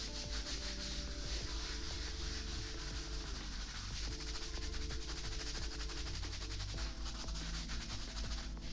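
Soapy lather is scrubbed by hand into the back of the head over scalp affected by acne keloidalis nuchae, making a continuous close rubbing and scratching sound with steady rhythmic strokes and no talking.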